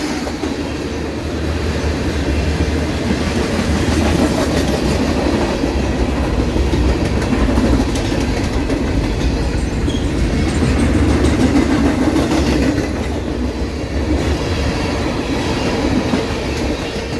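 A Norfolk Southern freight train led by leased SD70MAC locomotives rolls past, a loud continuous rumble of wheels and cars with low engine drone and faint rail clatter throughout.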